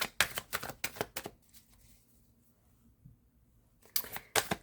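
Tarot cards are shuffled in quick, crisp riffling bursts at the start, followed by a quiet pause, then another short flurry of shuffling.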